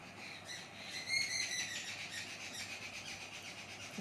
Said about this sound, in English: You can hear the lot of sound of birds chirping.